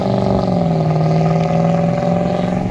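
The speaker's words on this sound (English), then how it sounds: "it's a V8 too" A loud, rumbling V8 car engine idles and revs up close, its deep throbbing note rising and wavering steadily without any talk.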